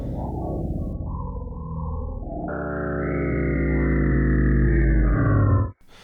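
A Eurorack patch running through a Panharmonium spectral module, heavy with blur and feedback: a sustained, distorted drone that swells partway through into a dense stack of smeared harmonic tones, loud and steady before cutting off abruptly near the end.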